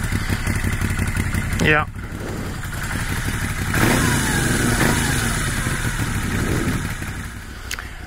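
A Moto Guzzi V7 Stornello V2 motorcycle engine runs steadily nearby, rumbling with a brief rev-like rise, while a voice speaks briefly over it.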